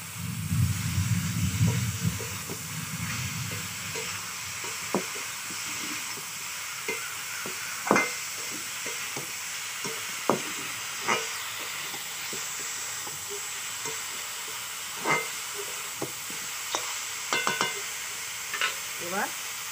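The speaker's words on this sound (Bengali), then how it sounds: "এবার ভুনে দিয়ে বাটাটা দিয়ে দেবো।" Ginger paste fries in a hot pan with ridge gourd for a thin Bengali tilapia fish curry, under a constant hissing sizzle. A spatula scrapes and clinks against the pan at irregular intervals.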